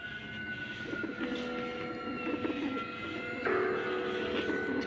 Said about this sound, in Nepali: केशचन्द्रले रुखमा परेवा देखे